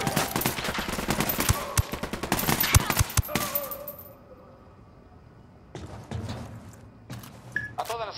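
Rapid automatic gunfire in Ghost Recon Wildlands crackles in dense bursts for about four seconds, drops to a quiet lull, then returns as scattered loud shots and short volleys near the end.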